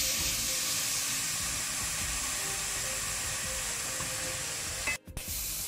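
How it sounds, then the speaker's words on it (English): Carrot fries in a pan for a Kerala carrot and sabudana payasam, giving a loud, steady sizzling hiss that runs throughout with one brief dropout near the end. "Now this carrot is fried nicely, cooked properly, so I'll put off the flame"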